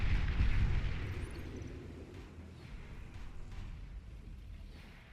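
Heavy explosive booms and rumbling blasts from an assault frigate being destroyed in the real-time strategy game Beyond All Reason, loudest at the start and settling into a sustained low rumble with scattered bursts.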